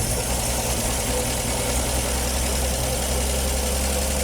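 An old car engine, choked and running after sitting since 1991, holds a loud, steady low idle with a constant rumbling vibration that stays even and close throughout.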